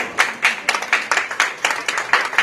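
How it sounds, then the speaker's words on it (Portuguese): Applause from the audience at a GEW Business Hall of Fame event, heard as a loose, uneven burst of hand clapping with distinct claps spaced out in a ragged rhythm. "Um forte aplauso."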